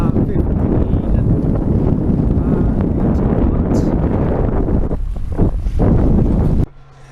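Strong wind of about 15 to 18 knots buffets a sailboat at sea during an upwind passage from Panama to Jamaica, a loud, constant roar of gusts on the microphone with water noise beneath that drops away abruptly at the end.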